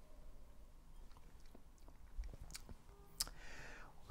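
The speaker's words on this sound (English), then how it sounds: "let me have another confirmation slurp" A close, wet slurp of Bombay Sapphire Bramble gin, soft mouth clicks and sipping noises over faint room hiss, with one sharp click partway through.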